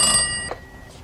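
Electronic telephone ring from a movie scene, a single bright tonal burst with stacked harmonics that cuts off after about half a second, fairly loud and alone with no talk.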